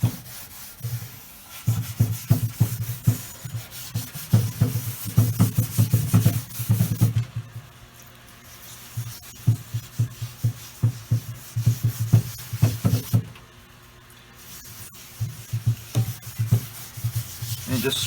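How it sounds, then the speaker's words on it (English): A wooden tabletop with water damage on an antique is scrubbed with lacquer thinner to strip off the old finish. Rapid, rhythmic scrubbing strokes sound close and fairly loud in several runs, separated by brief pauses. "And just scrub off the remaining little bits of finish that are on there."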